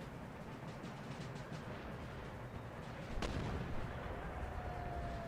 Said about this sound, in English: One more cannon shot and we'll have a breach.